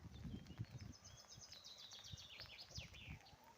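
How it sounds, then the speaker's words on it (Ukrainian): Small birds sing outside on a rainy day around a rural farmyard, their faint, rapid twittering chirps running in quick series over low thumping background noise. "Як гарно співають пташечки."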